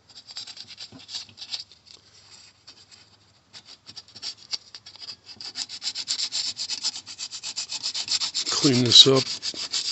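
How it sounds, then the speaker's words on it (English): Sandpaper rubbed back and forth over a cracked aluminum pipe, soft scratchy strokes that grow steadier and louder, with a brief spoken remark near the end. "I've got a crack in this aluminum pipe. I'm going to take some sandpaper."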